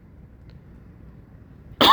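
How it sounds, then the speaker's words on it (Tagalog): A single sharp cough bursts out close by right at the end, after a near-silent stretch of faint background hum outdoors in a park area. "Inuubo tayo."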